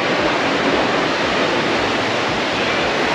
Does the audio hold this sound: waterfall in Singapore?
yes